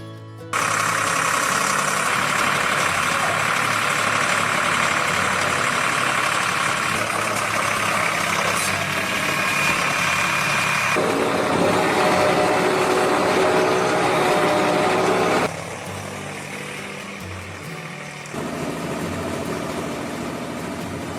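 Tractor 304 working with a Trio Electromix 800 self-loading silage mixer: a loud, steady engine drone with mechanical clatter that shifts in load partway through and eases slightly toward the end.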